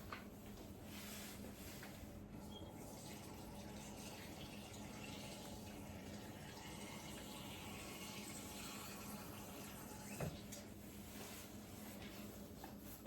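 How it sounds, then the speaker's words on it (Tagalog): Water runs into a container in a steady, even rush, quiet but continuous throughout, with a brief small knock near the end. "lalagyan po siya natin ng tubig hanggang dito."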